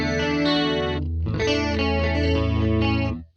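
Electric guitar chords run through a digital Eventide-style doubler preset from Valhalla Delay, with a 9-cent detune. They ring loud and sustained with a shimmering, widened doubled tone, and there is a brief break before the next chords ring out and cut off.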